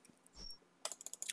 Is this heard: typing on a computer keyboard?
yes